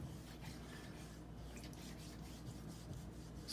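Benchmade Bugout knife blade being sharpened on a wet 4000 grit Norton water stone, soft repeated rubbing strokes that are faint and close, with no other sound.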